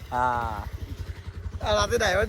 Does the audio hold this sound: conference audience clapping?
no